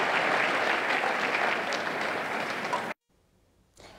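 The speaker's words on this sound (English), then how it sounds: "the whole Cox Convention Ballroom was filled with cheers and claps" Dense applause and cheering from a large audience in a convention ballroom after a television series premiere screening, loud and sustained for about three seconds before cutting off abruptly, with faint crowd sound returning at the end.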